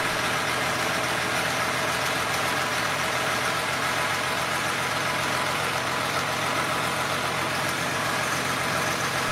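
A Soviet Zvezda M50 V12 diesel, a 62.4-liter marine engine from high-speed patrol boats, runs steadily at a dense, rough idle, loud and close throughout with no break in the roar.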